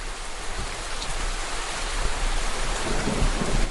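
Rain and thunder outside a window: a steady, dense hiss of rainfall with low rumbling thunder swelling underneath, growing slightly louder toward the end, with no voices.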